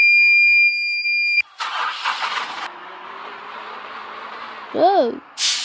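A bus motor kicks in with a sudden broadband engine rumble after steady electronic tones cut off. It settles into a mid-level drone, with a short rising-and-falling warble near the end.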